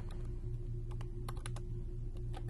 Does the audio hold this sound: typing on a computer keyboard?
yes